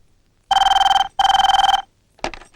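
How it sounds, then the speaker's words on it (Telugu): A telephone bell rings twice in long trilling bursts with a short gap, loud and close, followed by a brief clatter. "మాధవి కొంచెం ఫోన్ చూడు."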